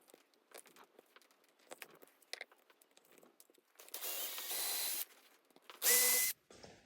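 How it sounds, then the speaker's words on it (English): Two short bursts of a power drill whirring, drilling screw holes to mount a pickup on a Modulus Quantum bass guitar, the second louder, amid quiet tapping and handling noises nearby. "then I can remove the pickup and drill for the mounting screws"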